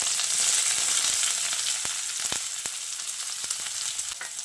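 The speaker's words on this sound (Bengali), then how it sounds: "এবার এই গরম তেলের মধ্যে কুচিয়ে নেওয়া পেঁয়াজ দিয়ে দিচ্ছি।" Chopped onion hits hot mustard oil in a pan while cooking spiced cauliflower, a loud bright sizzle that slowly settles, with a few stirring scrapes, close up and without talk.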